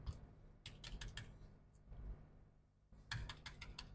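Keys clatter on a MacBook Pro A1708 laptop keyboard during a trackpad repair, in two separate bursts of quick clicking with a short pause between them. The machine hum and room noise continue underneath.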